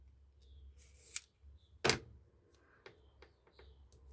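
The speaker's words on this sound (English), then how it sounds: "Let's cut that in half." Scissors cutting a small piece of paper in half for a bird craft, a few quiet close snips and one sharper crisp cut in the middle, set in a near-silent room.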